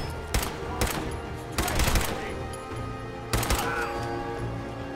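Gunshots from a weapon in Fallout 4, several sharp, loud bursts spaced irregularly with short pauses between them, over game ambience and a bit of speech.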